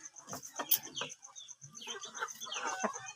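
A white Kelso chicken in a backyard gives a series of soft, irregular clucks at close range, with a brief louder squawk near the start and scattered bird chirps behind.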